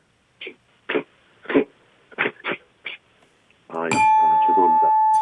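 A voice imitates a dog snorting dirt from its nose with six short, sharp puffs, then a bell rings out and holds.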